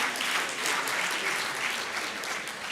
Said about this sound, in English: one more round of applause for final panel and moderator